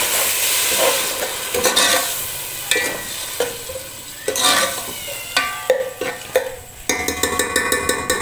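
Spices, yogurt and green chilies fry loudly in a pot, a dense close sizzle with quick spatula scrapes and stirring taps that turn into rapid rhythmic clicks near the end.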